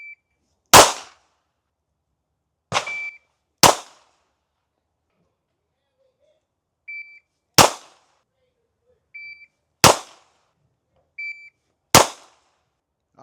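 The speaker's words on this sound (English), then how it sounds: "Just drawing from the pocket, shooting with one hand." Seven sharp, loud pistol shots from an S&W Bodyguard 2.0 fired one-handed, drawn from a pocket, ring out in irregular spacing with short echoing tails and silence between, and faint electronic ear-protection beeps follow some shots.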